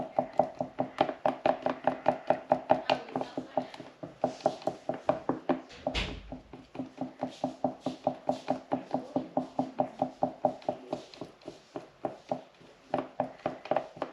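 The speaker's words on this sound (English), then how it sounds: "So I'm just stirring it down here." A stick stirs two-part epoxy in a small container for a transfer case knob repair, producing a fast, steady run of light tapping knocks that continues with a brief pause midway.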